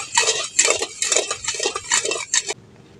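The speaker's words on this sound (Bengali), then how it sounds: "চিনিটা এইভাবে করে নাড়াচাড়া করে ভালো করে গলিয়ে নিতে হবে।" A spoon scraping and clinking against a pan as sugar with a little water is stirred to melt, a rapid series of metallic strokes in bursts that stop abruptly near the end, no voices.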